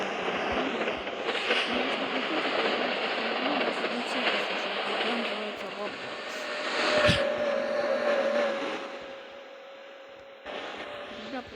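A freight train rolls through a sharp curve with a steady, broad rumble and rattle; a thin high wheel squeal rises midway and the noise swells before easing off.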